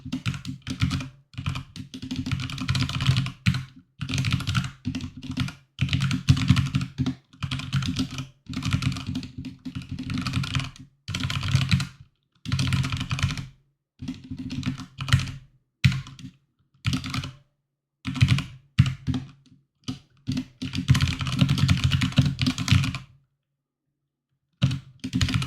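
Steady typing on a computer keyboard, with bursts of rapid key clicks broken by short pauses, close and clear, with no voices.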